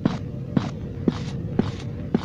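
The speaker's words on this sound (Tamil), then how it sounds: "உண்மையிலேயே அந்த நடக்கிற சவுண்டு கிளியராக இருக்குது." Five evenly spaced footsteps from the player character walking in the Slender Man video game, each a soft, close thud about half a second apart over a low ambient hum.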